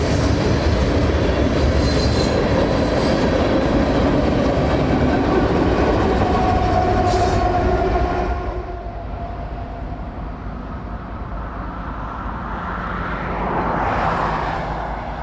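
Freight train 143, carrying a rear DPU, rolls past on Atlanta's North End line with loud rumbling and squealing wheels that drop to a softer, distant rumble partway through, then swell briefly again.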